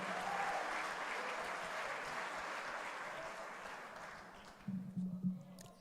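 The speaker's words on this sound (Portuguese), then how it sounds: "Mais uma salva de palmas" A church congregation claps in sustained applause, a fairly even wash of many hands that fades toward the end, where a voice briefly cuts in.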